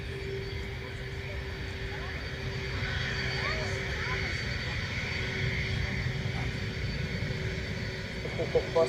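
At Dublin Airport, a Delta airliner in from Boston makes a broad, steady jet engine rumble, moderately distant, with a constant drone running under voices on the radio.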